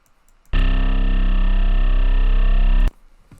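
One heavy, gritty 808 bass note in the Fire Drill style, built in Serum, starts abruptly, holds loud and steady for over two seconds, then stops dead, with no voices.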